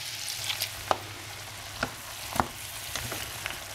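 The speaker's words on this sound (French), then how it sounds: "On mélange bien et on laisse cuire pendant 8 minutes en remuant de temps en temps" Spiced cauliflower simmering with broth in a wok, a low bubbling sizzle underneath as a utensil stirs at irregular intervals, giving a few distinct scraping knocks against the pan.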